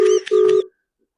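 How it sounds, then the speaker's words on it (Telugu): Two short electronic beeps from a telephone being dialed for a call, clear and close, separated by a tiny gap, then silence. "ఉండండి, తనకి ఇంకోసారి ఫోన్ చేద్దాం."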